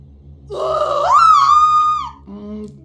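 A woman's drawn-out scream in the video game What Remains of Edith Finch, a loud rising wail lasting about a second and a half, then a short lower groan over a quiet game hum.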